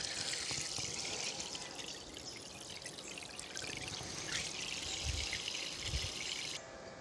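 Water streaming steadily from an AUTOPkio portable camping shower pump, a continuous quiet rushing flow that holds evenly throughout.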